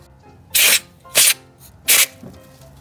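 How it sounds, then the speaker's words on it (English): Three short, loud hissing blasts from a can of compressed air, blowing debris away from an ignition coil near a spark plug hole on a 2006 Lexus GS300 engine, with brief pauses between them. "I'm gonna use this air spray."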